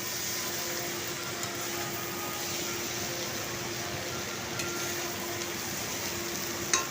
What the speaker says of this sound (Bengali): দিয়ে ভালো করে মিশিয়ে নিচ্ছি দিয়ে কিছুক্ষণ কষে নিলাম